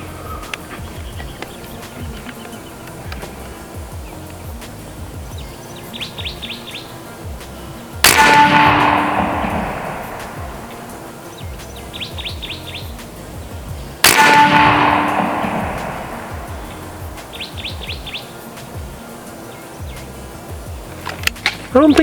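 Two sharp, loud reports from an AEA Challenger big bore .50 caliber air rifle firing slugs, each a sudden crack followed by a decaying tail, spaced several seconds apart over quiet outdoor background with faint bird chirps.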